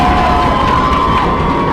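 Crowd at a girls' soccer regional game roars in a steady, dense wash of cheering with a faint whistle-like tone, loud and continuous throughout.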